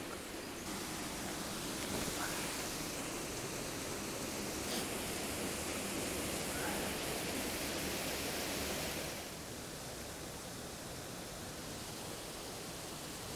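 A waterfall pours in a steady broadband roar, close and full for about nine seconds, then drops to a softer, more distant rush.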